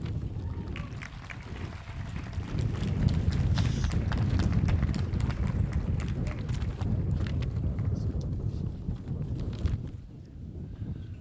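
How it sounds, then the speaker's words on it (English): A sudden gust of wind buffets an outdoor microphone at a college commencement ceremony, a loud sustained rumbling roar that swells and then eases off near the end. "I'm going to take the sudden gust of wind as not being an omen of any sort."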